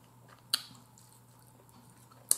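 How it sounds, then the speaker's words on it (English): Soft, close chewing while eating smothered chicken, mostly quiet, broken by two sharp wet lip smacks, one early and one near the end. "I know I'm smacking y'all."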